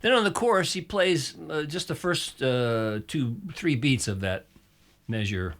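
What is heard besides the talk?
No everyday noises stand out.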